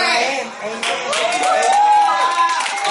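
Clapping from a women's conference audience rises beneath a speaker's loud, emotional voice, bursts of hands mixed with cheering over a short, energetic stretch.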